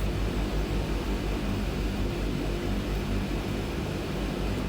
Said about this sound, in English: we're just going to taxi here straight onto the runway and take off